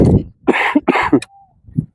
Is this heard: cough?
yes